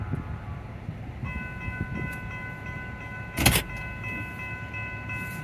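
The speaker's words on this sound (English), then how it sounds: "It's a train." A train passes nearby, a steady rumbling roll with a sustained horn-like tone entering partway through and a brief louder burst of clatter near the end.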